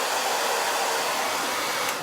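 A quick-dry tool blows air in a steady, loud, hair-dryer-like whoosh that holds unbroken for about two seconds, with no talking.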